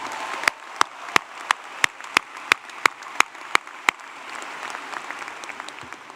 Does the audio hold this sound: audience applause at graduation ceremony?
yes